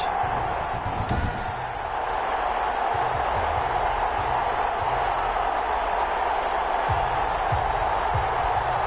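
Football stadium crowd at a GFL game between the Houston Voyagers and the London Bulldogs, a steady broad roar filling the space, with a few louder swells and claps rising out of the wash.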